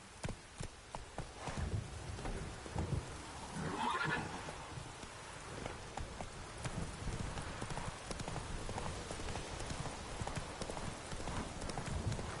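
A horse in The Witcher 3 gallops in a steady rhythmic clatter of hooves, with a whinny breaking out near the start and louder snorting neighs partway through as the running continues.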